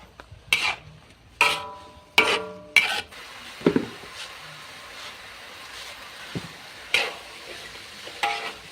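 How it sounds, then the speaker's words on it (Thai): Shallots and garlic being stir-fried in a pan, with sharp scraping strokes of a spatula at irregular intervals over a faint, quiet sizzle, close by and with no voices. "พัดดอกหอม พัดกระเทียมให้มันหอมกันพี่น้อง"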